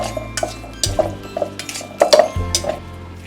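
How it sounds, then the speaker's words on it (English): A utensil stirs spices into a fish fillet marinade in a bowl, giving light clinks and scrapes in an irregular rhythm, close and clear with no talking. "now you want to give it a good stir. Mix everything together to incorporate the spices"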